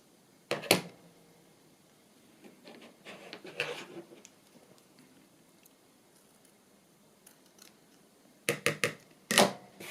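Scissors snip at a cut piece for a handmade journal cover, a few sharp close clicks and crunches in brief clusters separated by quiet handling.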